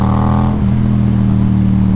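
A motorcycle engine runs steadily and loudly while the bike rides through a curve, with a sustained close-up drone and the throttle reopened at the exit of the bend.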